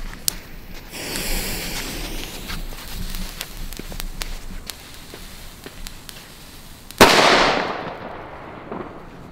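A Cobra P1 firecracker goes off with one sharp, loud bang late in the clip, followed by a decaying crackling hiss, after quieter fizzing and faint pops from its fuse.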